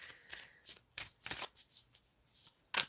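Crisp riffling bursts of a card deck being shuffled, several quick rounds with short pauses between, close and fairly quiet.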